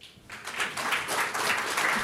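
Audience applause at an industry panel presentation on licensing, a short burst of steady clapping from a crowd that swells after a quiet start and holds fairly even throughout.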